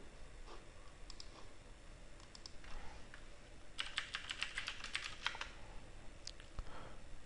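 Typing on a computer keyboard, irregular clicking keystrokes that quicken into a dense burst midway, then trail off into a few scattered taps, close and fairly quiet with no talking.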